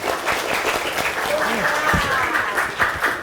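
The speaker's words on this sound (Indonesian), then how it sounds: "Luar biasa, tepuk tangan dulu dong." Children clap together at a school free-lunch event, dense steady applause mixed with excited young voices and shouts throughout.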